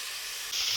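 Capsicum fries in a pan with a steady, close hiss that grows louder and brighter partway through.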